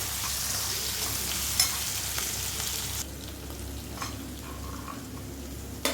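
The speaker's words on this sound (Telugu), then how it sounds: "ఆనియన్స్ అన్నీ బ్రౌన్ కలర్లో వచ్చే వరకు వేగాలండి." Salted onions fry in a pan until brown, a continuous close sizzle with a few stirring knocks and scrapes, no voices.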